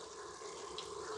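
Water pours steadily into a pot for mutton biryani, a soft continuous splashing rush that runs for just over a second with no talk.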